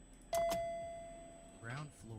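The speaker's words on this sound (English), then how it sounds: "That's the up chime." An elevator up chime newly made for an IVX elevator model, a single clear bell-like ding that rings out and slowly decays, followed by a spoken voice.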